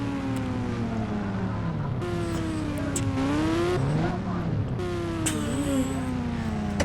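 A delivery bike's engine in a video game hums with rising and falling pitch as it speeds up and slows, steady and close, with faint game noises around it.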